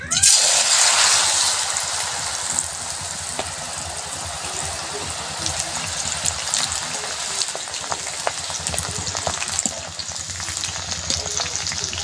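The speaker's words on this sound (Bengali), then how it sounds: "তেল গরম হয়ে গিয়েছে, আমি এখান থেকে আলুগুলোকে দেব।" Shredded potatoes fry in hot oil for crispy jhuri aloo bhaja in a village kitchen. A dense, steady hiss and crackle runs throughout, loudest at the start as they drop in, with no talking.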